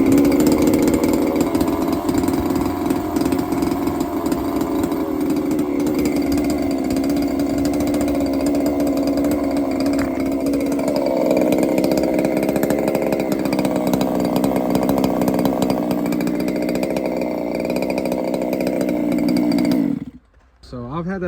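A 30cc Fuelie engine with a Walbro carburetor, in a 1/5 scale RC vehicle, runs loud and steady with a buzzing, chainsaw-like drone for about twenty seconds before cutting off abruptly.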